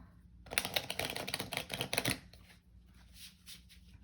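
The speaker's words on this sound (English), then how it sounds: "One more shuffle." Tarot cards being shuffled, a dense burst of riffling and flicking from about half a second to two seconds, then softer card handling, close and with no talk.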